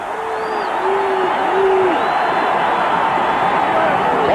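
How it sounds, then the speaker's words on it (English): Loud, dense stadium crowd at a 1985 Texas college football game roars steadily throughout, with whoops and hoots rising above the sustained cheering. "Texas crowd so loud now"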